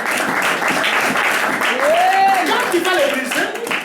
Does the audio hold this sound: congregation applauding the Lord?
yes